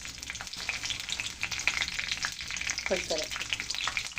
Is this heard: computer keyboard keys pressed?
no